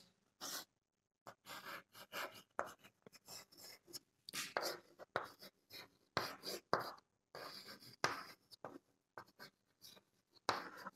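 A hand writes out a math formula for curved surface area, giving short scratchy bursts of writing separated by brief pauses, quiet and close, with no talk.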